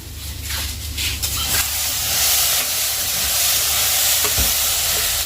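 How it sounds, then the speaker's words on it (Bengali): Potatoes frying in oil in a pan, a loud continuous sizzle and hiss that swells and holds steady close by, with faint stirring scrapes and no voices. "আলু ভাজাটা হচ্ছে"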